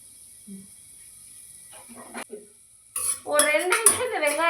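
Sliced onions are stirred in a pan for street-style salna, with sharp metal spoon clinks and scrapes against the pan and a voice joining in near the end.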